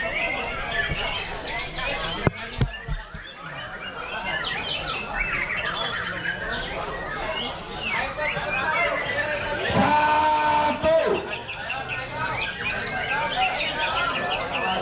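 Songbirds chirp, tweet and squawk continuously at an outdoor bird contest, mixed with busy crowd chatter and someone talking loudly over the gathering.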